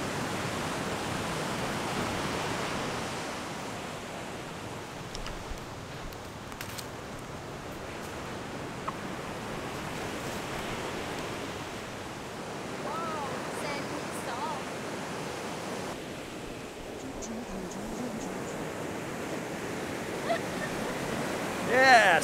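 Surf washing onto Surin Beach in Phuket, a steady broad roar of waves with some wind noise, continuous and moderately loud, with faint voices now and then.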